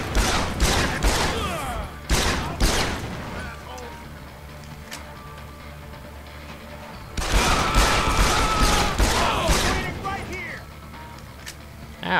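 Bursts of gunfire in the video game Deus Ex: Human Revolution, loud, sharp shots in two clusters at the start and again near the end, separated by a quieter stretch of game ambience, with a voice talking over parts of it.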